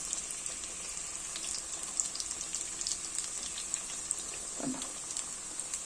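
Banana flower cutlets fry in a pan over a medium flame, giving a steady, soft sizzle with faint crackles and one brief clatter near the end, and no talking.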